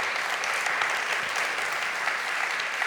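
Steady, sustained applause from an audience in a conference hall during a round-table session, a dense even wash of clapping throughout with no pauses.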